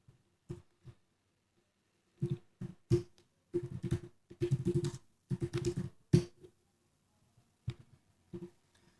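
Scattered keystrokes on a computer keyboard during web form coding, clustered in short bursts of a few taps with pauses between, close and fairly quiet.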